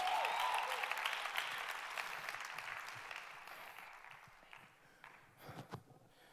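A church congregation bursts into applause during a sermon, loud dense clapping at first that gradually fades, leaving scattered claps and faint shuffling by the end.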